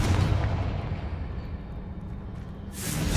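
A Confringo spell blast in Hogwarts Legacy, a heavy booming impact that opens the clip and trails off into a rumbling decay, followed by a fresh whooshing burst at the end.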